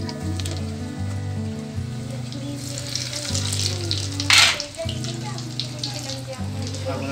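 Vegetable rolls dropped into hot oil in a kadai sizzle and crackle steadily, with a brief louder burst of spitting near the middle, all under continuous background music.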